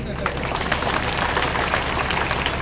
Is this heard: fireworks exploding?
no